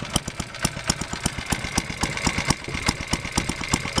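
A petrol electric generator engine runs aboard a 5-inch gauge model locomotive, giving a steady, close, rapid chugging beat with regular sharp pulses and no talk.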